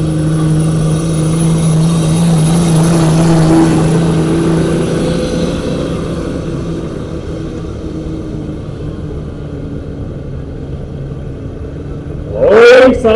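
A pickup truck in the 8,500 lb class at a tractor pull in Honfleur revs with a loud, steady engine drone that slowly fades into the distance, then a voice booms over the loudspeaker near the end.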